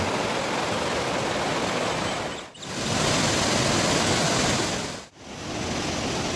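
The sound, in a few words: roaring waterfall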